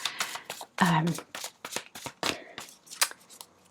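A deck of tarot cards is shuffled by hand, a rapid series of close, crisp riffling and slapping bursts in an irregular rhythm, with no talking.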